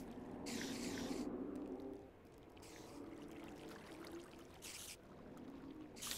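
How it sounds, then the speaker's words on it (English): Water flows and pours in the video game Minecraft, a steady rushing wash with periodic brighter splashy bursts, continuous and fairly quiet throughout. "Now there is water."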